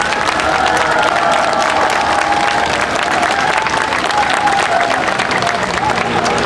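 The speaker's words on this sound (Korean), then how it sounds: "네, 주교님께 감사의 박수 부탁드립니다." A crowd at an outdoor street mass applauds the bishop, with dense, sustained clapping and some cheering throughout, loud and continuous.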